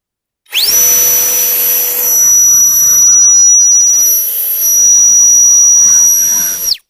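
A PROFI-TEC PTF1000BL POWERLine cordless leaf blower fitted with a larger battery spins up sharply and runs loud and close with a steady whining roar and a high motor tone, then cuts off at the end, with no voices.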